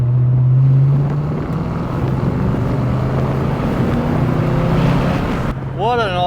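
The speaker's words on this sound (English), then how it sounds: "that V8 sound is what everybody wants to hear coming down their road" An old Fox Body Ford Mustang V8 drones steadily while driving, a loud, low engine rumble mixed with road and wind noise, shifting slightly in pitch, with a brief cabin voice near the end.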